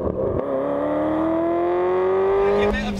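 Engine of a cheap, used Ferrari revved to about seven thousand rpm, a loud close rising whine climbing smoothly for over two seconds before the throttle is released and it drops away sharply.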